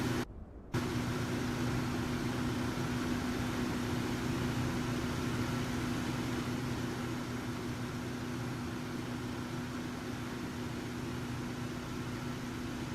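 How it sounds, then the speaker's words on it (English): A pre-conditioned air cart at an airport gate in MSFS 2024 hums steadily and evenly in the sim, a low, constant mechanical drone that plays alone throughout. "That noise is the PCA cart, pre-conditioned air cart."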